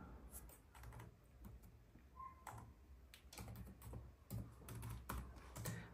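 Keys clatter on a computer keyboard while a PC is set up to flash recovery to a Poco F3 phone; soft, close, irregular taps come in quick clusters and pauses, fairly quiet and without speech.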